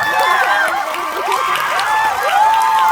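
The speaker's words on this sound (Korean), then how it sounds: "박수 한번 부탁드릴게요" A concert crowd at a Korean fan show cheers and applauds, a dense sustained wash of screams and whoops, loud and close, with shouting voices rising above the din throughout.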